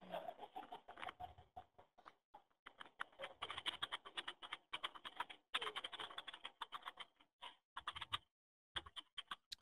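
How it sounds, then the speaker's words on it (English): Typing on a computer keyboard heard through a 911 call recording, a long uneven patter of light key clicks in bursts and short pauses, faint and thin with no clear voices. "She's still typing."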